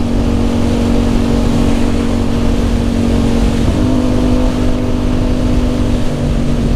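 A motorcycle engine pulling on the throttle while riding, a loud, steady droning roar with a slight pitch shift midway and continuous rushing wind.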